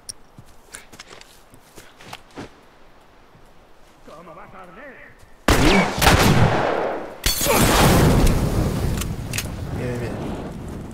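After quiet footsteps and talk, loud rifle shots in The Last of Us burst out suddenly, two heavy blasts with echoing tails and a voice speaking amid the noise.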